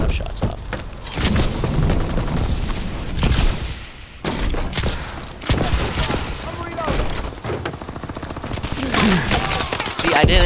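Gunfire in a video game, with bursts of shots and booming impacts repeating across the clip, loud and close, mixed with other game sounds.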